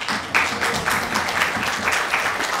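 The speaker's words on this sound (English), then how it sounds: "And applause is also welcome" Applause from the audience at a graduate engineering hooding ceremony, a dense continuous patter of many hands clapping in a hall with little talk.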